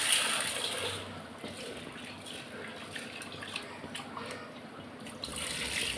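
Chana dal being rinsed under a running kitchen tap, a steady wash of flowing water with faint splashing throughout, no voices.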